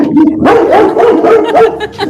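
A dog barks repeatedly as the mail carrier arrives, a series of loud, close woofs with a few higher yips mixed in, filling the whole moment with no talking.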